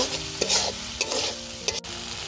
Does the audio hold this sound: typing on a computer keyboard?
no